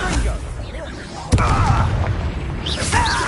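A Bombarda spell blast in Hogwarts Legacy lands as a sudden loud boom with a crackling burst, set amid busy game sound effects and chimes, with a voice speaking over it.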